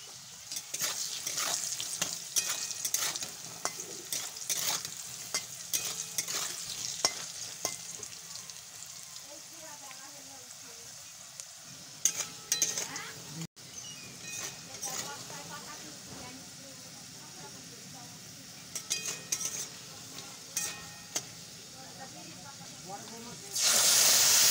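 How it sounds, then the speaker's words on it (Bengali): Fish curry spices, salt and turmeric fry with fried potatoes in a pan, a continuous hiss with bursts of stirring and scraping. A voice talks over parts of it. "মশলাটা দিয়ে আমি সুন্দর করে কষিয়ে নেব।"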